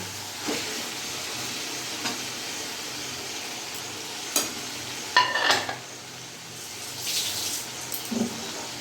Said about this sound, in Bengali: এবার ভালো করে মশলার সাথে আমি মিশিয়ে নেবো